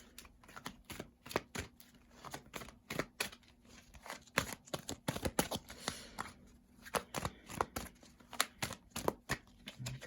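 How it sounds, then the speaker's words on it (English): Tarot cards are shuffled and pulled by hand, giving a run of crisp, close flicks and riffles that stutter in quick irregular bursts for about ten seconds with no talking. "let's go ahead and get these other cards pulled"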